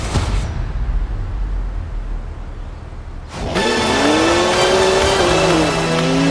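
A BMW 1M engine in Forza Horizon 4, first a rumbling idle, then a loud, sudden rev-up into a sustained high-pitched roar with rising and falling engine pitch.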